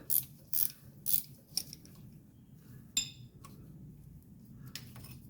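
A ratchet wrench with a 13 millimeter socket turning the air-conditioning compressor bolt on a 1985 wagon, with a run of quick close clicks followed by a few softer, spaced ratchet clicks.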